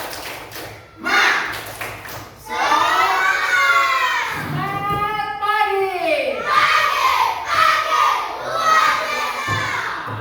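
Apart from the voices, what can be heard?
schoolchildren doing a spirit clap and shouting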